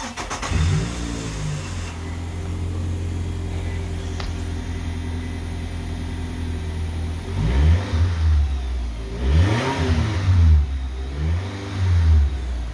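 A car engine with newly installed wheel spacers idles with a low rumble, then gets several sharp rev blips that rise and fall, recorded close and fairly loud.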